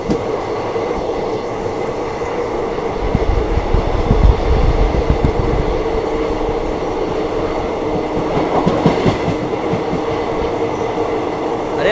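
Pune Veraval Express train running on rails, a steady loud rumble with rhythmic clatter and swells of wheel noise throughout, heard from on board or close beside the track.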